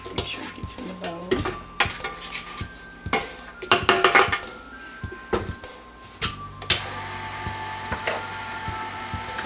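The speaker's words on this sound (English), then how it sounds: "Scrape the flour. Make sure it gets in the bowl." Sifted flour being scraped into a mixing bowl, with repeated clinks and scrapes of utensils against the bowl over a steady whirring appliance hum, close and moderately loud, with no speech.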